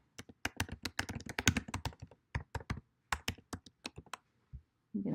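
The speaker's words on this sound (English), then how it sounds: "I'm going to type my question." Close, crisp key taps on a computer keyboard as a question is typed, quick uneven bursts of clicks with short pauses, nothing else heard.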